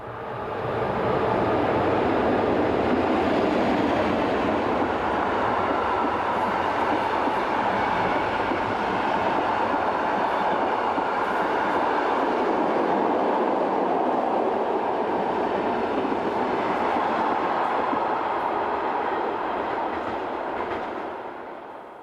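Swiss locomotive 11121 hauling the 1804 Basel to Chiasso passenger train through Wassen station on the St Gotthard line, a steady loud roar of wheels and carriages rolling past with faint clickety-clack, fading slightly at the end.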